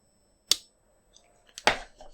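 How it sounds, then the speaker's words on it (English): A Wraith folding knife blade closing makes a sharp metallic click, then small ticks and a second, louder snap with a short rattle, heard close and without speech. "Once again, this is the sound of the Wraith closing."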